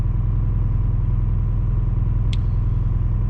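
A Detroit 4-53T turbo diesel swapped into a Ford Super Duty truck runs at a steady idle, a close, even low rumble with a regular pulse, broken once by a short sharp click.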